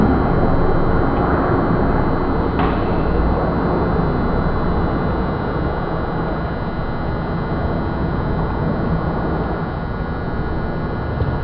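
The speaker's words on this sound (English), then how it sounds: "Hopefully that helicopter will go away soon." A helicopter flying overhead during an outdoor meeting gives a loud, steady rumbling roar that fills the whole stretch without pause.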